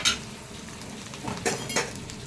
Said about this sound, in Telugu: ఓకే, ఇది ఇప్పుడు చారులో పోసేసుకోవడమే